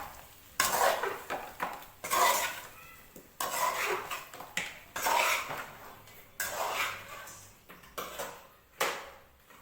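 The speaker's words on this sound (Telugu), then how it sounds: "అటు కలుపుకోవాలండి. మళ్ళీ కలుపుకొని మొత్తం అటు కలిపేసుకొని" Chicken fry being stirred in a pan, with a spoon repeatedly scraping and clattering against the metal in uneven bursts over a soft sizzle, no voices.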